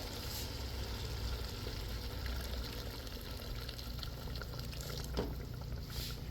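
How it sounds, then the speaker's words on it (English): Hot boiled water poured from a kettle into a pot of stewing snapper, a soft continuous liquid splash with faint sizzling underneath, steady and fairly quiet throughout. "I'm gonna go ahead and add in some water now from the kettle."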